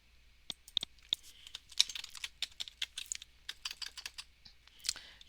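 Fingers typing on a computer keyboard, heard as a quick, irregular run of crisp, close key clicks with short pauses and no voices.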